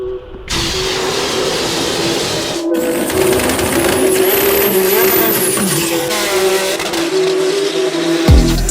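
A modified old Ford Taurus running nitrous revs hard and loud throughout, its engine note rising and falling through repeated throttle blips with a brief drop near the start and a sharp burst at the end.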